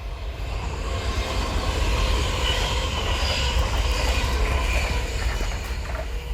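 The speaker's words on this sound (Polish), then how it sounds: "Jedzie pociąg!" Passing train, a steady low rumble that swells and holds at a moderate distance with no talking over it.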